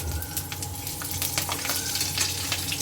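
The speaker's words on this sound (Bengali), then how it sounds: "গরম মশলা একটু দারচিনি লবঙ্গ এলাচ দিয়ে দিলাম আর দুটো কাঁচা লঙ্কা দিয়ে দিলাম এবার একটু নেড়ে" Garam masala with cinnamon, cloves, cardamom and green chillies frying in hot oil, a loud continuous sizzle broken by scraping stirs.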